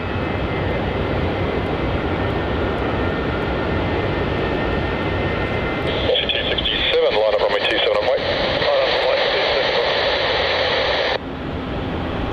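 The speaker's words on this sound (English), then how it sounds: "Our next departure off runway 27 is QF flight 918," Qantas flight QF918 airliner departs runway 27 at Melbourne Airport, bound for the Sunshine Coast, its steady engine roar swelling brighter about halfway through beneath continuous radio air-traffic-control voices.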